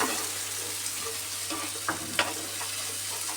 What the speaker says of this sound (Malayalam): വറുത്ത ചിക്കൻ ഇടുക ഇതാണ് നമ്മുടെ അടുത്ത ജോബ്